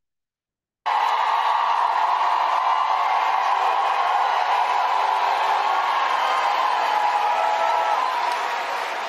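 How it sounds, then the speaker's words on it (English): A large, female-dominated crowd roars and screams continuously at high, steady loudness after a brief silent start, with a broad bright band of shrieking voices sustained to the end. "Listen to the crowd roar and it sounds like a very female dominated crowd."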